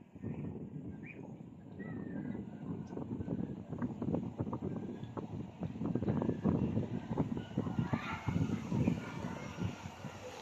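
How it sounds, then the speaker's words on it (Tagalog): Steady, rushing wind buffets the microphone with gusty low rumbles, loud and continuous throughout. "Napakalakas ng hangin."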